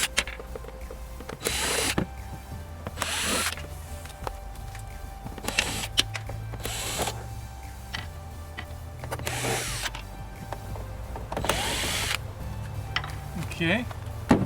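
A power drill or driver backs screws out of an LED light fixture in several whirring bursts of a few seconds each, close and fairly loud, with quieter handling and clicks between runs.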